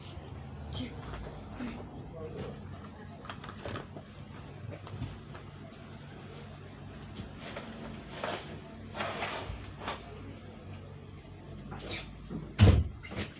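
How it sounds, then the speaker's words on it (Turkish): An indoor door is pulled shut with a single short thud near the end, after a long stretch of quiet room noise. "Şimdi kapıyı kapatayım özür diliyorum."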